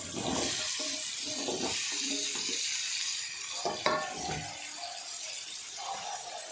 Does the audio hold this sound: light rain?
no